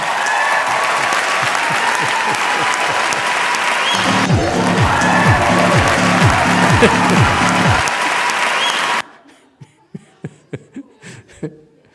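Dense audience applause with some laughter fills a hall at a Chan Buddhist talk, loud and steady for several seconds before cutting off abruptly, followed by a few scattered sharp claps in near silence.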